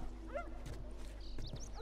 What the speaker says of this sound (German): Hunde, verpisst euch.